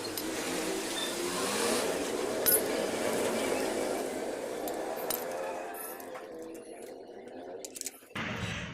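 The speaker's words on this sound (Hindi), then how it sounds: "अब हम क्लिच प्लेटें खोलने जा रहे हैं" Clutch plates are removed from a Hero Splendor Plus motorcycle, with light metallic clinks and rattles of parts being handled close by over a steady background rumble, while someone talks quietly.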